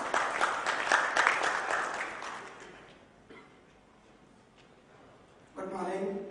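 Audience applause at a government ports summit inaugural session in Mumbai for a speaker, a moderately loud burst of clapping that fades out over a few seconds, followed by a quiet room and then a voice speaking.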